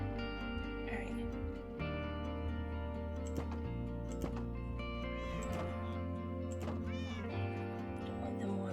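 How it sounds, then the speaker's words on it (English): Repeated cat meows from the blocky Minecraft game ring out one after another over a steady droning game soundscape, with a person talking now and then underneath. "I want them spawning kitty cats"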